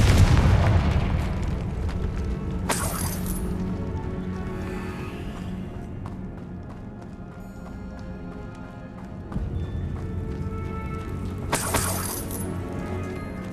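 A Confringo fire spell bursts with a loud, crackling explosion in Hogwarts Legacy, one blast early and another near the end, over steady game ambience and music.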